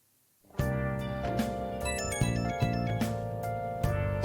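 A musical phone ringtone from the video game Persona 5 plays clearly after a short silence, a bright melodic chime pattern with bell-like notes over a sustained backing, continuing steadily.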